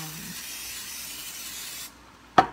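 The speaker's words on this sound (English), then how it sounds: "So I'm gonna spray the pan." Cooking spray hisses steadily from a can onto a pan for nearly two seconds, close and clear, then stops, and a short sharp click follows.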